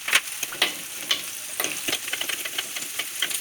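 Ginger and green chilli crackle in hot oil in a pan while ladies finger mappas is being made, giving a steady close sizzle dotted with spoon clicks and scrapes, with no talking.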